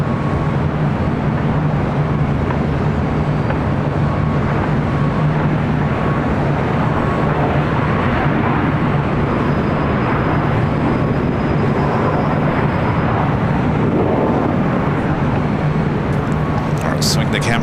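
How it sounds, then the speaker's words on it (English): A United Boeing Dreamliner arrives on runway 24 right at LAX, heard as a loud, steady broadband roar that holds unbroken from start to finish. "United Dreamliner up next for arrival on 24 right."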